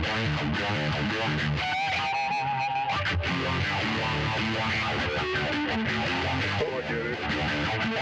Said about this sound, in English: MXR Phase 95 in blue mode